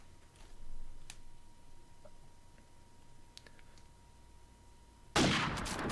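A single loud sniper rifle shot in Call of Duty 4 during a competitive promod match, sharp and sudden near the end after quiet ambient game sound with faint ticks.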